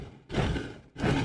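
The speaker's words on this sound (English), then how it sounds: "This sound has 2 layers, one stony scrape and one airy whoosh." Two rough, stony scraping swishes blended with an airy whoosh, each burst lasting under a second with a short gap between them.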